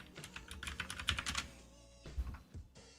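Quick clatter of computer keyboard keys typing a search, a dense burst of clicks early on, then sparser keystrokes amid quieter room noise.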